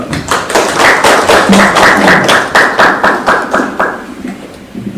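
At an academic education conference, an audience claps to welcome a panel discussant, a steady rhythmic patter of hand claps that gradually thins out and fades.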